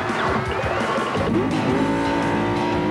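A race car in a McDonald's commercial roars past with a loud engine whine and a squeal of tires. A long, rising and falling engine drone carries on steadily throughout.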